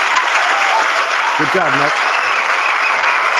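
Recorded applause played back from a YouTube video during a late-night live show, a steady dense wash of clapping throughout, with a voice briefly speaking over it partway through.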